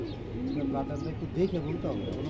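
Soft, low cooing of racing pigeons close by, a few rounded warbling calls rising and falling, with a muffled background murmur.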